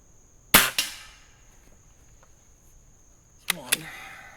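A Weihrauch HW50 air rifle fires JSB 15.89 pellets, two sharp, close spring-piston cracks a few seconds apart, each followed by a quick mechanical rattle and short decay over a quiet background.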